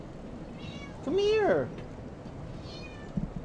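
A house cat lets out one loud, close, drawn-out meow, followed by a fainter, shorter meow a moment later. A person talks softly around the sounds.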